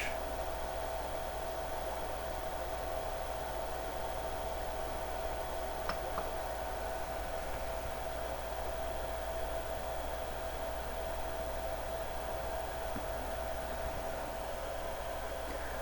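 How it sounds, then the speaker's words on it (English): An Ender 3 V2 3D printer prints a bed calibration mesh, giving a steady, close fan-like hiss throughout with faint stepper whine and an occasional tiny click. "Now I'm going to do a print of the bed calibration with the mesh."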